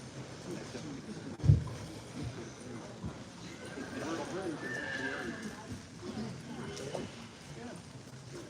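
Haflinger horses at a sale arena produce a loud neigh early on, followed by scattered hoof clip-clops and faint whinnies against a murmur of people talking.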